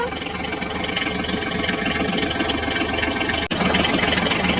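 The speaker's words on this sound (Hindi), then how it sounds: "चलो चलो बच्चों, अब हम जॉन डीरे ट्रैक्टर को लेकर आगे चलते हैं" A John Deere toy tractor driving, heard as a loud, steady, low engine drone with a throbbing idle-like rhythm, broken by one brief dropout before it resumes.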